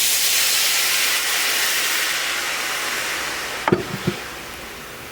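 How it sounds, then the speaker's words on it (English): White wine, about 150 ml, poured into a hot pan gives a steady loud hiss of steam that eases off, followed near the end by a few short low clunks of the pan or a utensil. "Then we add the white wine, and that is about 150 milliliters."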